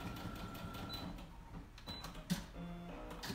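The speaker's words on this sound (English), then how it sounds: "I'm just going to top stitch in white thread that seam allowance" A sewing machine top stitching a seam in white thread beside white fabric and velvet for a pillow, running quietly as a soft continuous mechanical whir with faint ticks, fairly low in level throughout.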